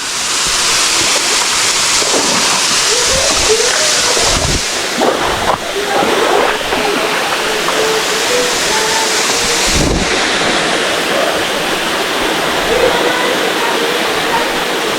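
A waterfall roaring steadily at close range, a broad continuous rush with a few brief knocks and faint voices mixed in.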